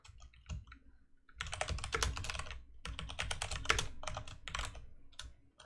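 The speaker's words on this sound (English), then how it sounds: "Keyboard ASMR as Axeltoss is tweeting." Rapid typing on a computer keyboard, close and clear, in two long dense bursts of clattering keystrokes with a few scattered taps before and between them, with no talking.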